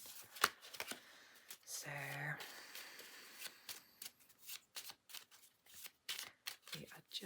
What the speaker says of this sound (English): let me shuffle these up again.